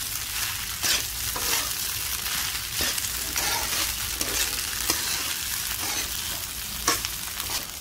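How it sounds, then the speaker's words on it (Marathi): Sabudana khichdi made without potato sizzles and fries steadily in a pan while being stirred and tossed, with soft scraping strokes recurring every second or so over a continuous close crackle. "तर असं छान प्रकारे असं खाली वरला हलवून घेऊया।"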